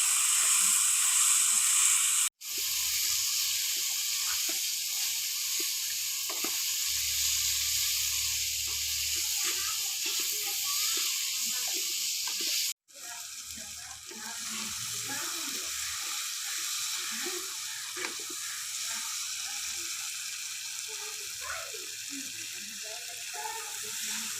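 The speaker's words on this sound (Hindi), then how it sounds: "इन मसालों में भी चिकन को 1-2 मिनट के लिए भून लेंगे।" Chicken pieces frying with turmeric and spices in a pan for a karela chicken dish, giving a steady broadband sizzle across the whole stretch with brief dropouts, soft stirring scrapes and bumps underneath, no speech.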